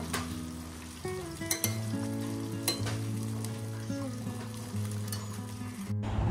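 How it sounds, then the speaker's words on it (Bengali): Food sizzles steadily in a pan while being stirred, with faint clinks of a utensil, under a sustained tonal hum in the background. "নুন অ্যাড করব। ভালো করে নেড়ে নেব।"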